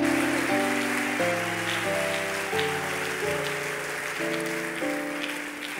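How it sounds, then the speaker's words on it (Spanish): Church congregation clapping rhythmically during a worship service, a dense steady patter of hands over sustained organ or keyboard chords that shift every second or so. "Va a aplaudir, hermanita, aplauda."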